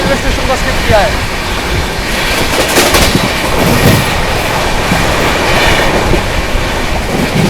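The 12565 Bihar Sampark Kranti Superfast Express runs through Rura railway station without stopping, heard from inside a 2AC coach as a loud, continuous rumble with clickety-clack and brief wheel squeals.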